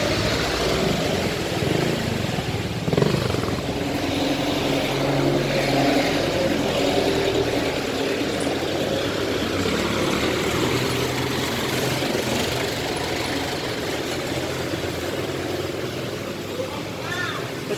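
Road traffic with cars passing, a dense continuous engine rumble and tire roar close by, with one louder pass near the start, heard while walking along a road toward a bridge.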